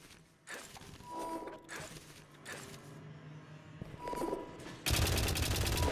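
Gun turrets firing in the video game White Knuckle, short bursts of rapid gunfire with mechanical clatter that grow denser and louder toward the end, ending in an intense sustained volley.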